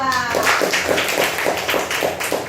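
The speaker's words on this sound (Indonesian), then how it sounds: "tepuk tangan untuk kelompok 2" Students clap for a presenting group in a classroom, a short round of rhythmic, evenly spaced claps close by with a voice briefly over the start.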